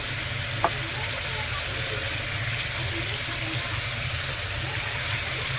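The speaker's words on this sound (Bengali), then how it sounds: "ডিমগুলো এক এক করে দিয়ে দিচ্ছি।" Steady sizzling hiss of eggs frying in a hot pan, with one small tap or clink early on, the frying continuing evenly and moderately loud throughout.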